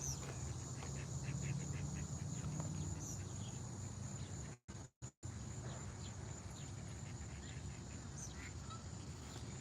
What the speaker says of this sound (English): it's a habitation for ducks and geese